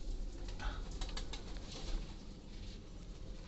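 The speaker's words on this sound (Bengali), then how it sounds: "ঘরে অনেকগুলো কবুতর আছে," Pigeons in a farm pigeon house full of adults and chicks give soft, low cooing calls, faint and steady against a quiet room, with occasional wing movement.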